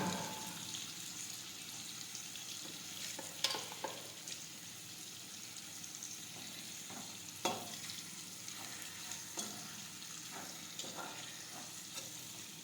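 Stuffed bitter gourd curry sizzles softly in a pan while being turned, a quiet continuous fry punctuated by occasional scraping and tapping of the spatula, with no talking.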